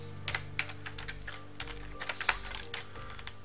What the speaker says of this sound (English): I'm just going to do it all on the keyboard